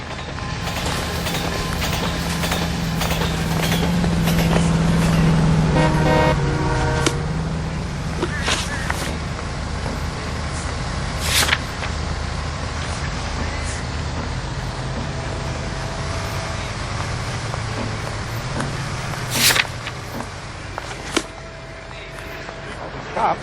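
Car driving in L.A. Noire, a steady engine and road rumble running throughout, loudest in the first few seconds, with occasional sharp knocks and clicks above it and voices talking.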